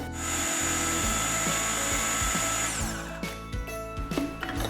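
A kitchen blender loudly whirs through ingredients for homemade hazelnut spread, a steady motor drone that shifts and stutters toward the end as the thick mixture churns.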